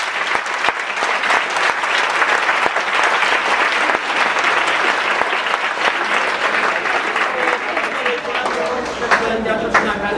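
A theatre audience at a Jesus Christ Superstar stage show bursts into loud, sustained applause, dense clapping with scattered cheers and chatter throughout.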